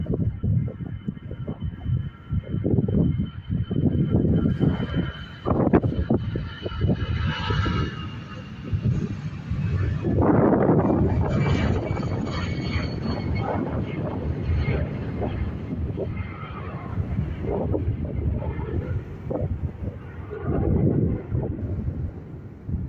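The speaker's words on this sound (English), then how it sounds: "the rugby liveried Aer Lingus Airbus A320 heading over to Birmingham" An Aer Lingus Airbus A320 in rugby livery passes at Dublin Airport, its jet engines giving a loud, rumbling roar that swells and lingers under gusty wind noise on the microphone.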